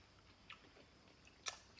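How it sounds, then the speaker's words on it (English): A few crisp crunches of someone chewing a crunchy chip alongside a burger, close to the mouth but quiet, with brief bites heard alone and no talk. "the chip is crunching"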